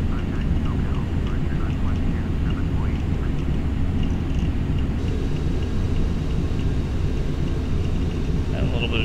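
Steady loud airplane engine roar during takeoff climb in Flight Simulator X, a continuous broadband rumble filling the whole stretch with voice speaking over it.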